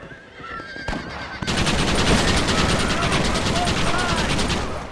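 Horses whinny over rapid gunfire in the Red Dead Redemption video game, with dense rattling shots dominating after a brief quieter start and a nearby voice talking underneath.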